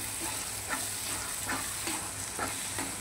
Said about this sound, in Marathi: आता ह्या स्टेजला आपण टाकणार आहोत कांदा खोबऱ्याचं वाटण, 2 चमचे, ते पण छान परतून घ्यायचंय।